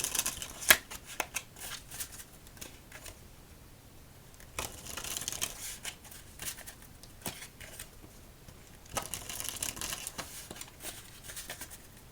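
Cards are riffled and shuffled repeatedly, crisp papery flutters in several bursts with quieter handling between them, close and soft.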